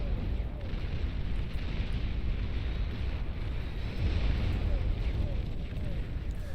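A nuclear missile explodes in the real-time strategy game Beyond All Reason, a sustained low, rumbling roar that stays heavy throughout, with a voice talking over it.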